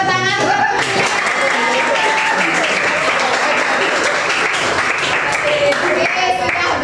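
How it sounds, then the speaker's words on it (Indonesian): Students clap together in a classroom after a performance during a teacher's practical exam session, loud and close, with voices talking over the steady clapping. "Oke, tepuk tangan."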